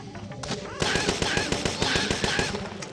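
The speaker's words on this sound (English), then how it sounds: "Now this gun is fully automatic, so as long as we hold down the button, it will keep firing" A fully automatic gun fires continuously in Parasite Eve 2, a rapid, even stream of loud, sharp shots that begins abruptly after a short lead-in and keeps going without a break.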